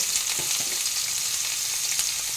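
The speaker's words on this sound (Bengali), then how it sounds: "পটলগুলোকে আমি একটু ভেজে নেব।" Pointed gourd pieces fry in a pan with black cumin seeds, giving a steady, close, hissing sizzle with a few faint crackles and light scraping ticks throughout.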